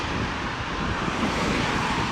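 Steady, loud wind rushing across the microphone while road cycling near Lauterbrunnen, a continuous broadband roar with no voices, like air buffeting a rider in motion.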